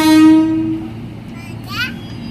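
A train horn sounds loudly at the start at an Indonesian railway station, then fades into rumbling railway noise with a voice briefly audible.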